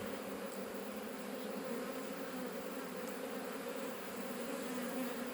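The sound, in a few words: bees buzzing at their hive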